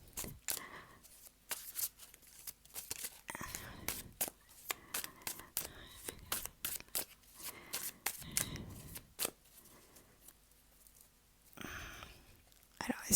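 Tarot cards are cut and shuffled close up in a quiet room, with a string of crisp papery riffles and slaps at an uneven pace. A soft voice murmurs now and then.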